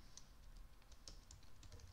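Quiet, quick keystrokes on a computer keyboard, a short burst of soft irregular clicks heard close and alone.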